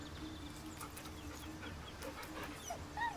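Soft dog whimpers and panting from the dog Scratch being petted in Baldur's Gate 3, faint, with a low hum and small chirping sounds in the background.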